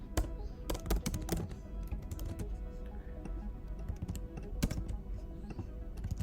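Code being typed on a computer keyboard, with rapid, uneven bursts of close key clicks and occasional louder taps over a soft room background, and no voices.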